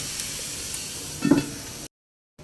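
Oysters grilling in a covered pan give a steady, fairly loud sizzle with a brief louder crackle midway, then cut off into silence.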